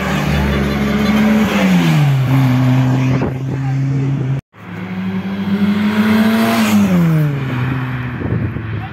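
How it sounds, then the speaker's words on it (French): A Peugeot 205 GTI drives past on a street, its engine note rising and falling as it approaches and recedes, loud and close, with a brief cut in the middle and further engine sound afterward. "On a une petite 205 turbo là. GTI pardon. Alors elle repasse."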